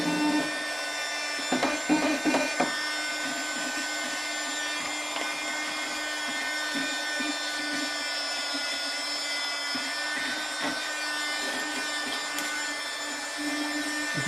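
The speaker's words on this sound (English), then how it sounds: "I've got this little tiny vacuum that plugs in via USB" A small USB-powered vacuum cleaner runs with a steady, thin, high whine full of tonal hum, broken by occasional scraping and knocking as it is moved over a surface.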